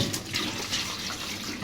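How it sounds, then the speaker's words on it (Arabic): Tap water rushes into a cooking pot being filled to boil eggs in a kitchen, a steady splashing gush with no voices. "هنملى هنا ميه عشان نسلقهم"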